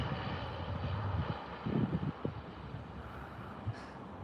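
A Dash 8 turboprop from Edmonton lands at Calgary airport, heard from a distance as a faint, steady engine drone under wind noise, with a few low thumps partway through.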